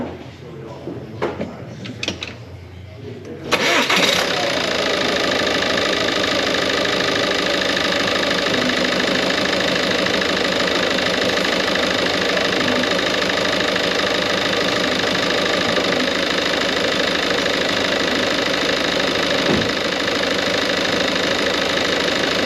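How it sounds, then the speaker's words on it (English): A 2015 Ford Kuga with 41k miles, just after a timing belt replacement, cranks and fires up abruptly, then settles into a steady, close idle with a faint knocking rumble; muffled handling noises come before the start. "we're going to get in the car and make sure it starts."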